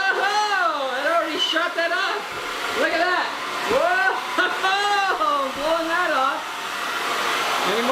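A Conair Testarossa hair dryer runs on its boost setting, a loud, steady whooshing roar that fills the whole stretch while people talk over it.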